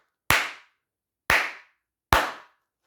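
Three sharp hand claps, evenly spaced about a second apart, ring out alone and fairly close, each with a brief decaying tail, used to set off a sound detector module.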